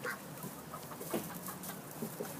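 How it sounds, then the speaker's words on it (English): Chickens cluck softly and intermittently in a backyard coop at dusk, scattered short calls over a steady low background, with no talking. "And the chicken's going to go eat the duck food."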